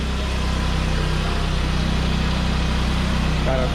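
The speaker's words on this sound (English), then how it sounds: "Engine sounds nice." A Saab 9-5 with 200,000 miles idles with a steady low rumble, close and continuous, with no voices over it.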